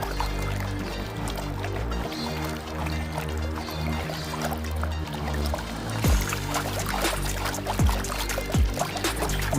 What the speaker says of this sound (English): And we're panning.